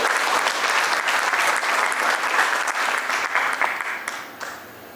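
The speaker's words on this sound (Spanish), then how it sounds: "Fuerte el aplauso, por favor." An audience at a book presentation in Cochabamba claps loudly and steadily. The applause thins and fades out near the end.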